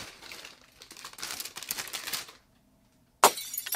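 A plastic bag crinkles and rustles while being opened up close, a series of crisp crackles for a couple of seconds, then a pause and a sharp final burst, with no talking.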